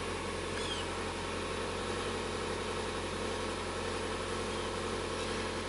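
A Subaru engine idles steadily after starting, a low, constant hum that holds at an even level for the whole stretch with no talk over it.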